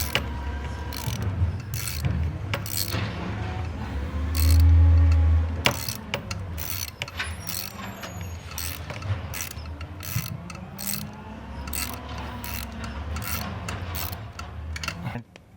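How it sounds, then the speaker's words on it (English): A ratchet clicks in rapid bursts as screws come out of the EGR valve on a 2012-2016 Mercedes-Benz GL 350 (X166, OM642 diesel). The clicking is close and repeated, with brief pauses and a low rumble between bursts. "So right now I'm removing the screws from the EGR valve."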